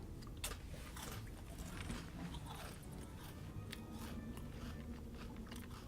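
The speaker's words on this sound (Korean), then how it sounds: "과자 고소비 먹어요" Crunchy Gosobi snack being bitten and chewed close up, repeated crisp crunches over a steady background hum, no talking.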